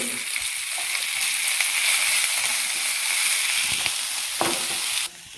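Cleaned prawns hiss and sizzle steadily in a hot pan with coconut, with faint stirring scrapes and clinks near the end, close and loud with no talking.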